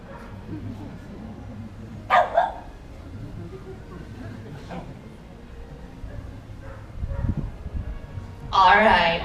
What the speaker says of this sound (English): cueing the dog to back up and bark